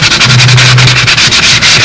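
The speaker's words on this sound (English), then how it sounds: "what's handy for sanding this type of a shape is one with soft rubber blocks" A soft rubber sanding block rubs by hand over a carved model Spitfire cowling in quick, steady back-and-forth strokes, a loud, close, gritty scraping with no talk.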